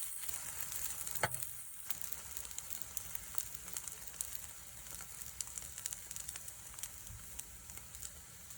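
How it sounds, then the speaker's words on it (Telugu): Egg-dipped bread frying in melted butter in a pan for French toast, a steady soft sizzle with fine crackling pops throughout and one brief clatter near the start, no talking. "బటర్ మెల్ట్ అయిన తర్వాత ఈ ఎగ్ దాంట్లో ఇలా డిప్ చేసేసుకొని వేసేయాలి ప్యాన్లో"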